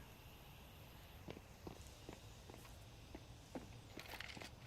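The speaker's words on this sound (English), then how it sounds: "They hear that stomping in the apartment" Faint, regular footsteps stomping through an apartment in Counter-Strike, a steady series of soft thuds heard at a distance amid quiet background ambience.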